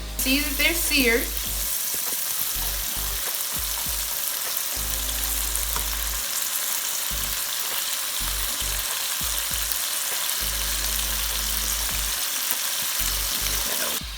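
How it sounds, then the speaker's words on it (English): Scallops searing in a hot frying pan, a loud steady sizzle close up with a brief clatter of tossing near the start, then continuous frying with no one talking. "now I'm going to give my scallops a nice little toss. And you can see that they're seared"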